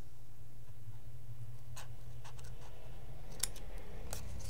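Scissors snip through a paper template for Christmas baubles, making several short, crisp cuts over a steady low background hum.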